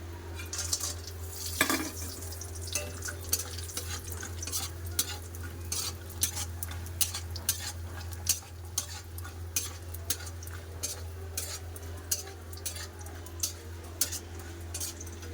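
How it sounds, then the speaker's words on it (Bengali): Lentil dumplings fry in oil, sizzling steadily in a pan while a utensil scrapes and taps at a regular pace, over a low background hum. "বড়ি ভেজে নেবো"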